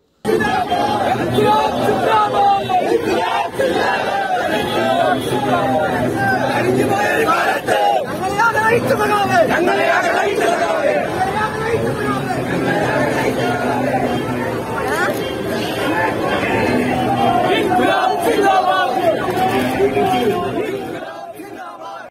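A huge crowd of mourners gathers at a public viewing in Kerala, a continuous loud babble of many voices, shouts and chatter, surging and ebbing without pause.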